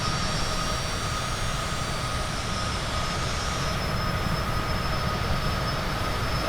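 Steady, continuous jet engine roar of a Cessna Citation CJ4 business jet in a flight simulator game, a broad even drone that holds unchanged at constant loudness throughout, with no talk over it.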